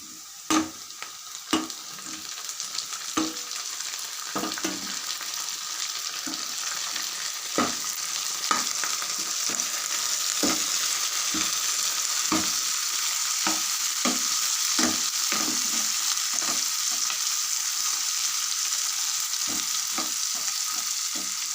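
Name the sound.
tamarind and tomato pieces frying in a pan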